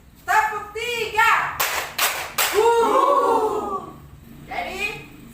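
Three sharp hand claps in a counted clapping game led by a group of primary school teachers, evenly spaced, landing among lively voices and chatter before and after.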